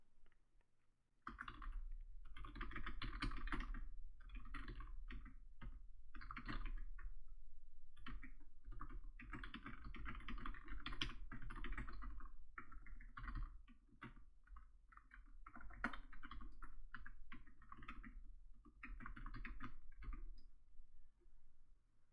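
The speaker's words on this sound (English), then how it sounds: "let me type this out actually" Steady, fairly quiet typing on a computer keyboard lasts about twenty seconds. The keystrokes come in dense bursts with short breaks, close to the microphone and without speech.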